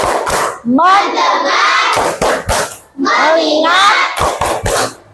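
Schoolchildren in a classroom perform a rhythmic focus-clapping routine, loud, sharp claps in quick patterned bursts between chanted words spoken together by the group.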